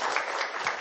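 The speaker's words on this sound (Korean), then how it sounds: "일단 큰 박수로 발표를 마감하고요." An audience at a 2015 electronic finance seminar applauds to close a fintech presentation: a dense, steady wash of many hands clapping at close range, briefly and without pause.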